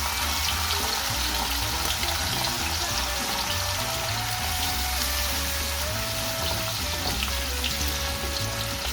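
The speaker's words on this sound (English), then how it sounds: "I'm gonna go in with 50 milliliters of white wine" White Sauvignon Blanc wine hits a hot pan of garlic, shallots and bacon, setting off a loud, steady hiss and sizzle that runs unbroken from start to finish, close up and with no voices.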